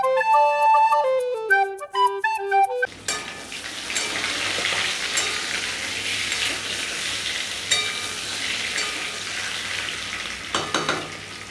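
Potatoes frying in hot oil in a pan for a vegetarian aloo dum. Music plays for the first few seconds, then a loud, steady sizzle carries on alone.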